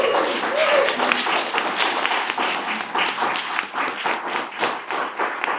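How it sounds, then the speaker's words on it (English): An audience claps at a National Women's Day peace summit, loud, close applause with a distinct rhythmic pulse building as it goes, and a brief voice heard at the start. "Please give a round of applause to Ms."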